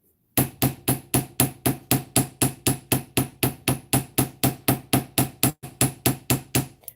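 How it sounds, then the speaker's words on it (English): A heavy hammer strikes repeatedly at a quick, even pace in a craft room, about two dozen sharp metallic blows ringing out close and loud with no talking. "go ahead and start hammering it"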